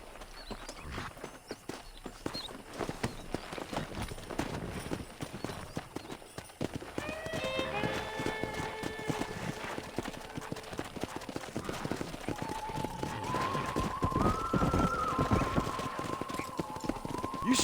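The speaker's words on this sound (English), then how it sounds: "let's see if we can't wrangle some horses" Horses galloping in Red Dead Redemption, rapid clip-clop hoofbeats running throughout with whinnies and calls rising over them midway.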